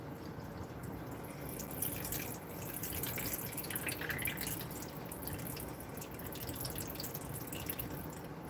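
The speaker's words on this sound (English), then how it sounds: "I'm going to go ahead and drain my 2 cans of kidney beans" Liquid from two cans of kidney beans drains into a sink, a faint steady trickle and patter of water running continuously at low level.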